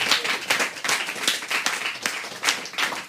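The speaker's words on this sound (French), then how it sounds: "j'aimerais vous applaudir" An audience breaks into sustained applause for the staff at a celebration event, dense overlapping hand claps filling the room at a steady, lively level.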